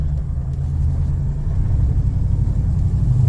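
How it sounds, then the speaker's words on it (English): Car pulling out and accelerating on gravel, a steady low engine rumble with crunching tire noise running loud and close throughout, with no voices. "We'll pull out on this. Try not to spin the tires on the gravel."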